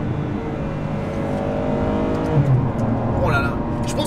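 A Ferrari 599 HGTE accelerating hard, its engine note rising steadily through the rev range, close and loud; a brief voice is heard over it.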